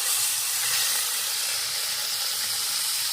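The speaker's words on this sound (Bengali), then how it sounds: "টমেটোটা একটুখানি ভেজে নিলাম" Chopped tomato frying in a small amount of oil with black cumin seeds for a tilapia curry, a steady close hissing sizzle that stays loud and even throughout, no talking.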